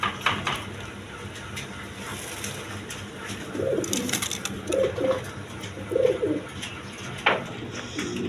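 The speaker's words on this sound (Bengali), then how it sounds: "এখানে এক পেয়ার সিরাজি কবুতর আছে" A pair of white Sirazi pigeons coo in several low, soft phrases over a steady murmur of background noise, with a few faint clatters in between.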